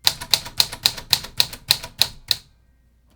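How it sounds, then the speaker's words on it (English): Keys strike steadily on a 1940s Smith Corona Sterling typewriter, nine crisp, evenly spaced clacks close up, then silence. "I'm going to go ahead and type through all the letters and numbers."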